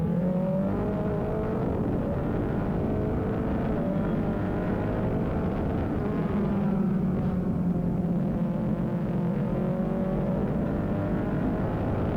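Formula Regional Americas race cars lapping a racetrack at New Jersey, engines droning continuously at high revs with shifting pitch as cars pass, loud and sustained without pause.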